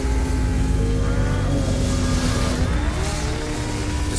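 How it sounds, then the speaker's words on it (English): A 2023 Polaris Patriot Boost VR1 snowmobile engine accelerates hard with a loud, continuous, rising high-revving roar that stays strong throughout. "The Patriot Boost VR1 delivers acceleration like you've never felt before."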